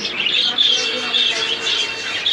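Many small birds chirp and tweet steadily at a busy Friday bird market in Mirpur 1, Dhaka, with dense overlapping high calls filling the space and a murmur of crowd noise beneath.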